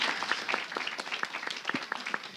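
Quiet applause from an audience at an evening community Q&A event, scattered claps for a couple of seconds, fairly faint and somewhat sparse.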